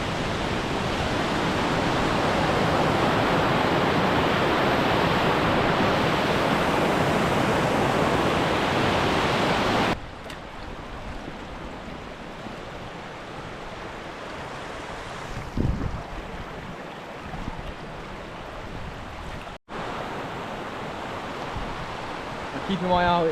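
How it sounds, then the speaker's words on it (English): Loud, steady rush of a flowing river in the Scottish highlands, a dense broadband roar that drops sharply about halfway through, then continues quieter with a brief spike, as if the microphone moved away from the water. "with this river here, it's quite loud"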